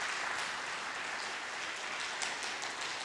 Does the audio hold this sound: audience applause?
yes